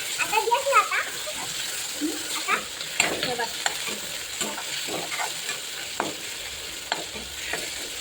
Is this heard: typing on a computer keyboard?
no